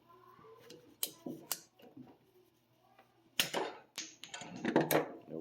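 A Milwaukee PVC pipe cutter bites through PVC pipe in a few sharp clicks and snaps, ending in a burst of crisp cracking and ratcheting, close and clear in a quiet room.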